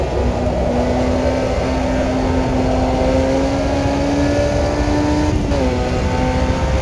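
Race car engine in an F1 junior car on a driving video game's Curitiba circuit, holding a steady loud whine that climbs slowly in pitch, then dips briefly near the end with a gear change before rising again.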